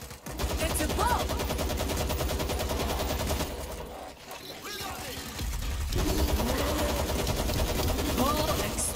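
Mounted gun in the video game World War Z, firing in sustained bursts of dense, loud gunfire, briefly pausing midway before the rapid shots resume, with other game sounds mixed in.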